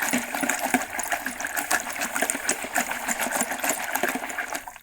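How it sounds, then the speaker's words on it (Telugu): Buttermilk is churned by hand to separate butter, giving a steady close sloshing and swishing with rapid rhythmic strokes throughout and no voices. "ఇలా ఒక 10 minutes చిలకాలండి మజ్జిగి."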